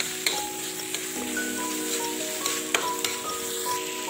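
Mawa (khoya) sizzles steadily in a pan as its ghee releases, a constant close frying hiss broken by small clinks and scrapes of a stirring spoon.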